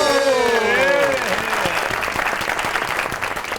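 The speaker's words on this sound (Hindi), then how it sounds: "आपकी बहुत सी तालियों में the one and only Zahid Fakhri." An audience claps in a dense burst as a poet is introduced at a recitation gathering; a voice overlaps the opening moment, then the clapping continues steadily and loud.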